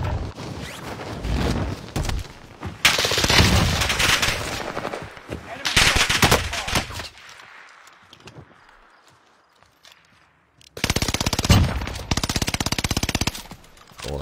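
Fortnite gunfire, with bursts of rapid automatic shots in several separate volleys between quieter gaps, loud and close, plus faint footstep-like clatter.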